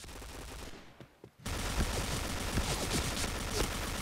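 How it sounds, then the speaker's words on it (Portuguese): AK SOPMOD rifle fire in the Point Blank shooter game: after a brief lull, a sustained rapid burst of automatic shots rattles on steadily, fairly quiet overall. "o recuo da AK, mano, é muito cabuloso, velho."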